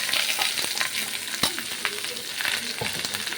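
Onions and curry leaves, added after mustard seeds, fry steadily in a hot pan with a continuous close sizzle, broken by a few sharp scrapes and clacks of a spatula being stirred through.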